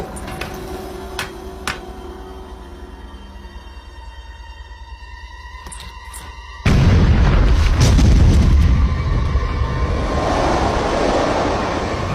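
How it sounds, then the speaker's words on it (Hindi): A cartoon explosion blasting apart a rock: quiet tones and clicks first, then a sudden loud booming burst that rolls on as a long, heavy rumble. "उड़ा दो इस चट्टान को"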